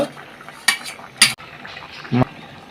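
Pabda fish curry with cauliflower being stirred in a pan: a few sharp clinks of a utensil against the pan over a faint low sizzle, with a gap between strokes.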